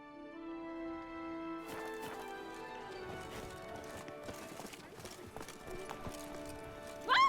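Roach, a horse in The Witcher 3 video game, galloping with quick rhythmic clip-clop hoofbeats under game music, ending in a short loud whinny.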